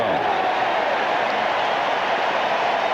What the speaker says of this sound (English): the crowd now gets into it here in Atlanta